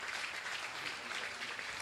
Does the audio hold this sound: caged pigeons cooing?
no